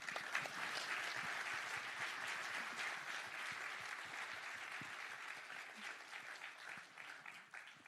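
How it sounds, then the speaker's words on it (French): Sustained applause from a crowd fills the space, steady clapping that slowly tapers toward the end. "Je pense qu'on peut les applaudir."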